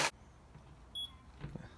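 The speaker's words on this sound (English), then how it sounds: "We got a beep." A kayak fish finder powers on with a single short electronic beep, high-pitched and brief, over a faint background hum, with a soft clunk shortly after.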